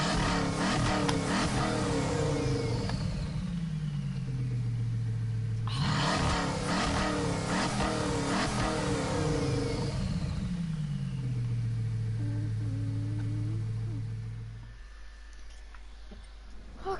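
Car engine in the Gran Turismo racing game revving up through the gears while driving, two long accelerating sweeps with shifts, loud and close, then dropping away near the end.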